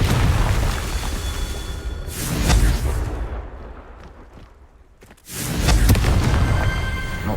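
A Confringo fire spell explosion in the Hogwarts Legacy video game, two heavy booming blasts a few seconds apart, loud and close, each with a rumbling low tail, with a quieter lull between them.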